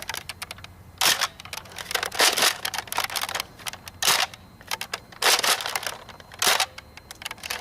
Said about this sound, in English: now we're shooting the N-Strike Longstrike with elite darts